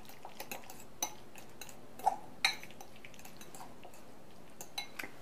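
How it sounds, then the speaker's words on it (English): Guacamole seasoned with salt and crushed pepper is stirred in a bowl, quiet scraping with a few sharp clinks of a utensil against the bowl, close and faint. "Give it a quick stir."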